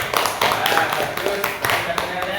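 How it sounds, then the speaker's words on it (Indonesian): A classroom group of students applauds for group 2, a dense, fairly loud burst of clapping from many hands, steady throughout with voices mixed in. "tepuk tangan untuk kelompok 2"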